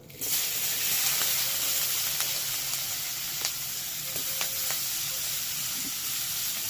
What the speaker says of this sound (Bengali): এবার এই তেলের মধ্যে যে পেঁয়াজগুলো ছিল ওই পেঁয়াজগুলোকে ভেজে নেব